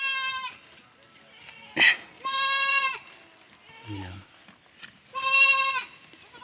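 Goats bleat loudly three times in drawn-out, wavering calls, with brief talk and some rustling between them.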